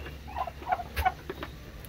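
Soft chirps and gobbling notes come in short bursts over faint shuffling, several birds close by with no voices.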